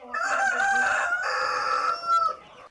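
A rooster crows nearby, a loud, drawn-out two-part call with a rising final note. No other sounds are heard.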